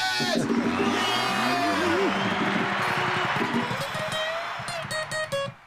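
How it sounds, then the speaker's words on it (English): Crowd at a small live show for a New Zealand punk trio whoops and cheers loudly over a sustained roar, with voices shouting and sliding pitches, fading into scattered claps and calls near the end. "The crowd goes wild."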